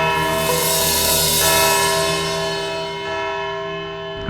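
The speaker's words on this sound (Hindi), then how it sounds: "घंटी बज गई" A single bell is struck loudly in a courtroom drama and rings out with a bright, sustained metallic tone that slowly decays.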